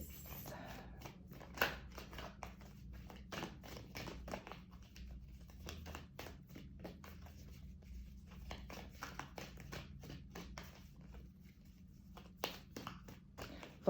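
Quiet, scattered crisp snaps and flutters of tarot cards being shuffled and handled, irregular and close, with soft background hum.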